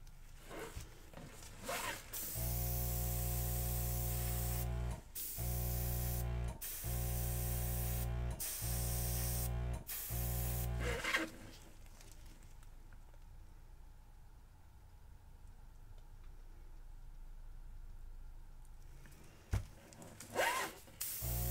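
An airbrush sprays pink acrylic paint in a run of loud, sustained hissing bursts separated by brief stops, followed by a quieter stretch of faint handling sounds.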